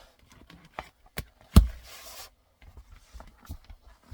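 Clear vinyl is cut close up, with sparse clicks and light snips. One sharp snap is followed by a brief soft rustle, and quiet handling noises fill the gaps between cuts.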